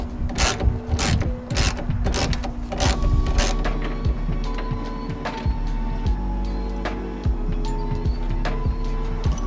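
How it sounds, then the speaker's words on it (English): Clamps and screws are removed from the bed rails of a Ford SVT Raptor pickup truck, with close ratcheting clicks, metallic rattles and scraping knocks in an irregular rhythm and no talk. "first thing we're going to do is take off these 4 clamps underneath the bed rails"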